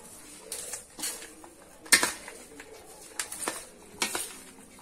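Popcorn coated in hot jaggery syrup is stirred in a pot, giving irregular scraping clatters and knocks against the metal, with one louder clank, close and without talking.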